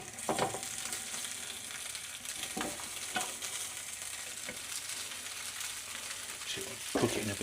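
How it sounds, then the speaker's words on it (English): Black pudding frying in a little bacon fat for a spicy bacon sandwich, giving a continuous soft sizzle with a few scraping stirs and light knocks, and no voices. "cook it in a bit of bacon fat"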